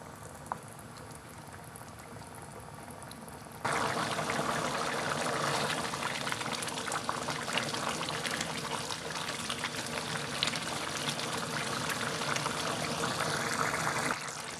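Water bubbling steadily in a pot as soaked basmati rice cooks for aloo matar pulao, a continuous close hiss and burble that grows louder and denser partway through, with no talking.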